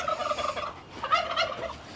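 Domestic turkeys on a small farm gobble in rapid, warbling bursts, a couple of overlapping calls close by and fairly loud.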